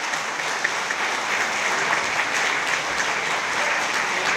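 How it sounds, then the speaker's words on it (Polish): A gala audience applauds in a continuous, dense roar of many hands clapping, evenly loud from start to finish with no talking. "Wielkie brawa dla trzynastki."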